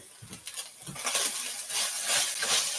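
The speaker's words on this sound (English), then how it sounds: "Oh yeah, the meat's sizzling now." Meat sizzling steadily in a hot pan, a constant crackling hiss with occasional soft scrapes and clinks of a utensil stirring.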